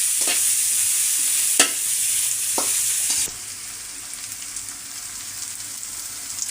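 Ginger, garlic and cumin paste fries in a pan with a bright continuous sizzle close by, a few stirring clicks, then the sizzle abruptly drops to a quieter, softer hiss.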